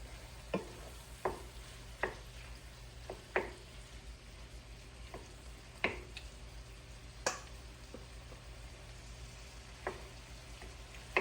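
Shrimp and chicken are stirred in a pan, giving a faint background sizzle punctuated by a dozen or so sharp, evenly spaced scrapes and clicks of the utensil against the pan.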